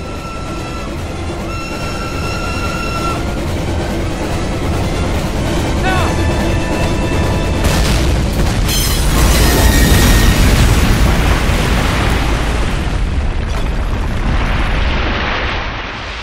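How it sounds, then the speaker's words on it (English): A demolition charge detonates in the WWII shooter Call of Duty: United Offensive, British campaign, a loud sustained booming blast with rumbling debris that swells mid-clip and rolls on under battle ambience and music. "Detonate on my command."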